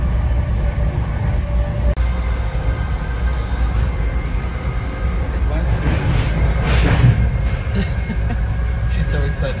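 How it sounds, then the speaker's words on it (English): An old, noisy passenger train heading to New York City, heard from on board as a loud, constant rumble and rattle of wheels and carriage with a brief squeal, while voices talk faintly in the background. "we get like the old noisy train too, out of all trains to get"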